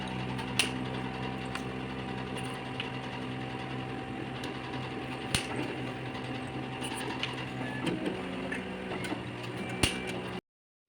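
A laboratory analyzer runs patient samples, giving off a steady mechanical whir layered with ratcheting clicks and gear ticks, close by and without talk, before cutting off abruptly near the end.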